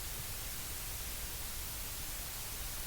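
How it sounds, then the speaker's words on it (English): Steady, broadband white noise for blocking interruptions, played from a nap app, a dense unbroken hiss at even loudness with no pauses. "some interruption-blocking white noise"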